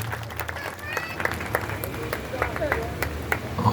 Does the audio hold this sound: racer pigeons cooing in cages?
no